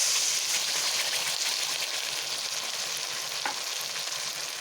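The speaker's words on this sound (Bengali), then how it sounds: "মশলাটিকে আগে ভেজে নেব বেশ সুন্দরভাবে" A spice paste with tomatoes fries in a pan, giving a steady, close sizzle and hiss that runs unbroken the whole time, with no voices.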